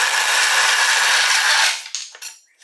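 A power drill with a handle bores into a wooden cornhole board at a low setting, a loud steady grinding whir that stops abruptly, followed by a few brief knocks and scrapes.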